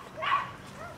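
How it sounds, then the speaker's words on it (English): Dogs out in the countryside, stirred up by neighborhood kids heading to school, give a short yip or bark, moderately distant and alone in the quiet morning air. "the neighbor kids are getting ready to go to school, and they got the dogs all woke up and excited"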